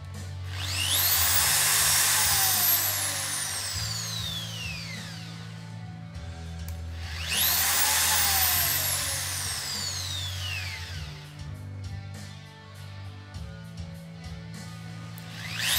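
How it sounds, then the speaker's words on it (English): A Makita cordless drill boring hinge holes into an aileron during a model aircraft build, heard in two loud spin-up bursts a few seconds apart, each whining high and then winding down, close by with no talking. "in our hinge slots, we want to drill the hole right in the middle"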